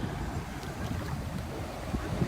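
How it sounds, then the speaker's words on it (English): Steady wind and surging waves at a beach on Naxos in the Greek Islands, a continuous rushing roar with wind buffeting the microphone and no clear individual breakers. "I think the big waves are from giant squids about to attack you, says Bobble."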